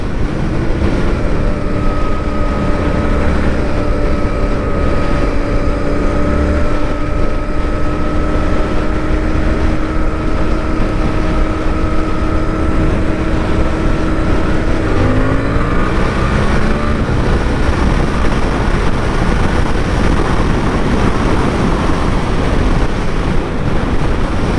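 A 2024 Suzuki GSX-8R motorcycle ridden past at speed, its engine holding a steady droning tone before the pitch drops and shifts as it changes gear, with heavy wind buffeting throughout and no talk.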